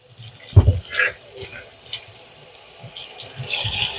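Tap water runs steadily over eggplant being rinsed under a kitchen faucet, a soft hissing stream with a few louder splashes and knocks near the start as the vegetable is handled.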